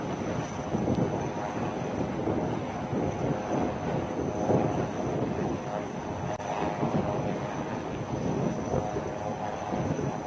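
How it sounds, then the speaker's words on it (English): An Advanced Light Helicopter hovers during a Navy Day rescue demonstration, lifting survivors in a rescue basket; its rotor and turbine make a loud, steady, continuous roar with wind buffeting the microphone. "you are now witnessing the advanced light helicopter undertaking evacuation in a rescue basket"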